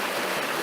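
A stream rushes steadily toward waterfalls, a loud broadband wash of flowing water with no pause.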